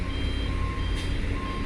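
A truck's reversing alarm beeps in a steady repeating pattern at the Bakauheni ferry port, over a constant low rumble of diesel engines.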